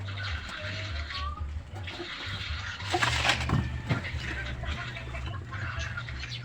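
Water poured and swirled while making bagoong, Filipino fermented fish paste, a steady splashing wash with a low hum beneath and a louder surge midway; voices speak briefly over it.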